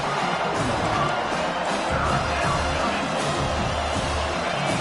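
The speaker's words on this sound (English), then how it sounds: "Decibels rising as the crowd gets behind this defense on 3rd down." A football stadium crowd roars continuously during a college game between Purdue and Washington, the dense cheering noise swelling loudly as the defense lines up for third down, with faint speech mixed into the din.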